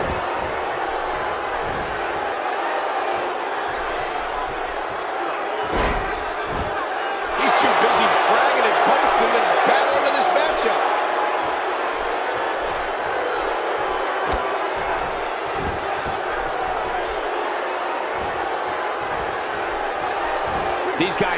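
Crowd noise from a sold-out arena in the WWE 2K17 wrestling video game, a steady roar that swells louder for a few seconds midway, with commentary voices speaking throughout.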